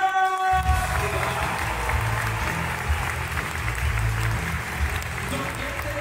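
An audience at a stunt show in a volcano-themed arena at Filmpark Babelsberg in Potsdam breaks into sustained applause, loud and continuous throughout, with a brief musical tone at the start and a low rumble underneath.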